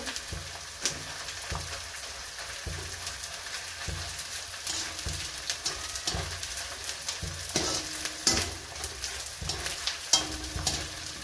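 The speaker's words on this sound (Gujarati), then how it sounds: "હવે આપણું ઘી ગરમ થઈ ગયું છે, આપણે તેમાં ગુંદરને પહેલાં તળી લઈશું" Steady sizzling of edible gum frying in hot ghee, with regular scraping strokes of a spoon stirring the pan, close and continuous.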